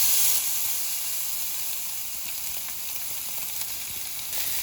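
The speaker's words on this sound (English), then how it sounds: "That's when you know the pot's hot. Time to cook the steak." Boneless ribeye steak searing in a hot pot with butter, olive oil, garlic and thyme, giving a steady, close, even hiss of frying that runs unbroken throughout with no talking.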